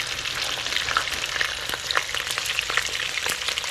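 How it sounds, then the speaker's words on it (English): Steady, dense sizzling of frying in browned butter for a creamy chicken soup, close and continuous with faint crackles scattered throughout and no speech. "So I'm kind of going to fry it just a little bit."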